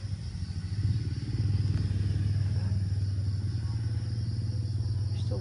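Motorcycles pass along a rural road near a farm garden, a steady low engine drone that swells and holds for several seconds, with insects chirping faintly behind it.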